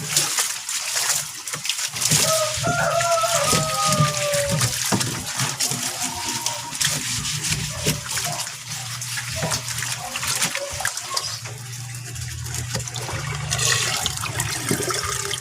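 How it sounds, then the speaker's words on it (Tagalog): Rain falls outdoors in a steady, dense hiss of drops spattering around a backyard pond filter being built from an old fridge, constant and fairly loud throughout. "inabutan po tayo ng ulan"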